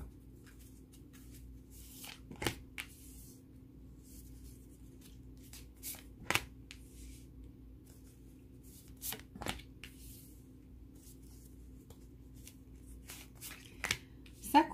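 Oracle cards are shuffled in short, crisp bursts at a close distance, with a handful of quick riffling flurries separated by quiet pauses over a faint steady hum.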